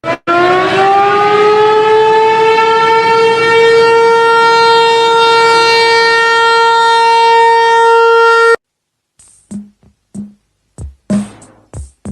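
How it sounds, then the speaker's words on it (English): A civil defense siren wails loudly and steadily for about eight seconds, then cuts off, followed by a few brief thumps and bursts of noise. "We got to sound the sirens."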